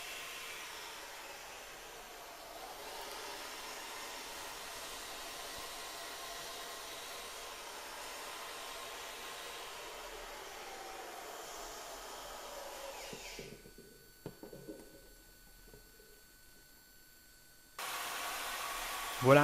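An electric drill spinning a soft polishing brush against aluminium makes a steady, fairly loud whirring hiss for about thirteen seconds, then cuts out into a quieter stretch before the motor noise returns.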